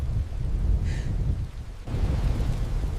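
Low rumbling thunderstorm with steady rain and wind, a dense continuous roar with a brief higher cry-like tone early on and a sudden shift in texture midway, no speech.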